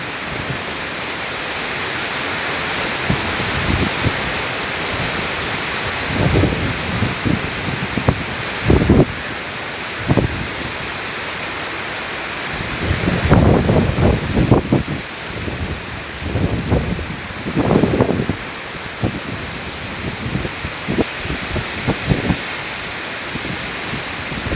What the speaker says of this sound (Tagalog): Paglabas ko ng bahay, ang lakas na pala ng hangin.